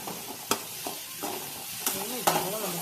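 A spoon stirs an egg bajji preparation in a pan, giving a few sharp scraping knocks spaced irregularly over a soft background hiss, close and fairly quiet.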